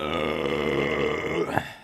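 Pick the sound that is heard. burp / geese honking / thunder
burp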